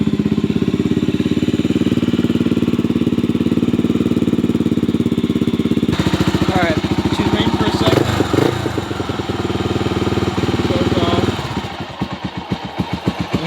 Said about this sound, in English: The bike idles. It's gonna die. There we go. It idles for a second.